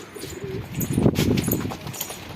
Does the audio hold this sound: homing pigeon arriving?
yes